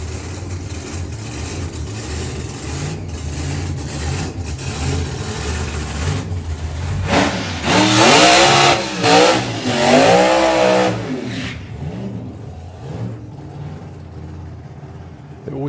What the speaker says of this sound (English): It always does sound like when they do these high revving burnouts